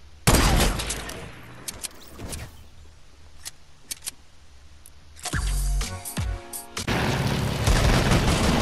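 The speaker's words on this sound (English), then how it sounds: "Deagle shots are insane!" Desert Eagle pistol shots ring out in a video game, a cluster of loud sharp blasts at the start followed by sparse cracks, then rapid repeated shots and dense noisy firing near the end.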